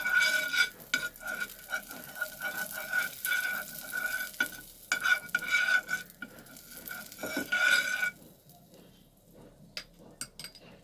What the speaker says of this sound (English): Now we'll heat a pan and we will put little butter in the pan.